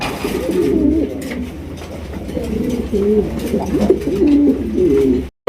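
A red Sirazi pigeon coos repeatedly in low, throaty, rolling phrases, close and fairly loud, against a faint background hum.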